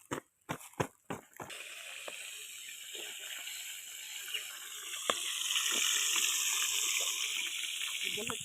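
After a few sharp clanks, tap water runs steadily into a sink, close by, with splashes as hands are rinsed under the stream.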